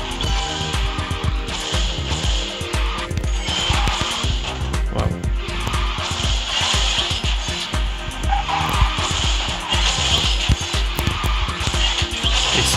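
A Rolls Royce QEX race car drifting in the mobile game QQ Speed Mobile, with a continuous loud engine roar and repeated tire squeals and skids running throughout, no voices over it.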